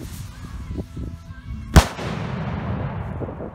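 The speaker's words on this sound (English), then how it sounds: "Let's go take a look at this one last rocket." A single firework rocket from a scripted pyromusical show bursts with a sharp, loud bang after a quieter stretch of low rumble, followed by a long, fading crackling wash.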